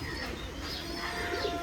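A pigeon held in the hand gives soft, low cooing, faint and close, a brief murmur over a quiet indoor background.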